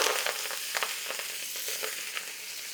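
Pea tips and vegetables sizzle in smoking-hot oil in a wok for a stir-fry with garlic, a steady close crackling hiss with scattered sharper pops and no voices.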